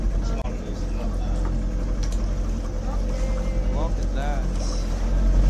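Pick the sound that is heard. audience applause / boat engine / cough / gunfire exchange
boat engine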